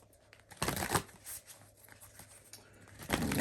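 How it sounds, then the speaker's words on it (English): Tarot cards shuffled by hand in a quiet room, a couple of brisk riffling bursts separated by softer handling and rustling, close and moderately loud with no talking. "I'm going to shuffle, and we're going to get our last three cards."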